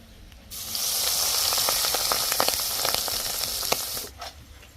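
Clam meat gathered from a river fries for pickle, giving a loud, close, steady sizzle that starts abruptly, crackles and pops for about four seconds, then drops away.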